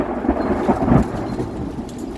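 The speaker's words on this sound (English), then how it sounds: "It's hailing." Hail and thunder during a Southern California thunderstorm outdoors, a steady loud rattling downpour with low rumbling swells, continuous for the whole stretch with no talking.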